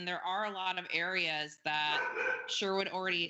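A dog barks and yips repeatedly, close and loud, over and between a person speaking in an online meeting.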